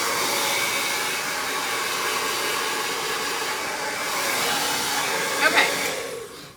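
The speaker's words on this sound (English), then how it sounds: "So that's the Soleil. That's one of the professional hair dryers." Soleil professional hair dryer rough drying hair, a steady loud airy blowing roar throughout with a brief bump near the end as it shifts.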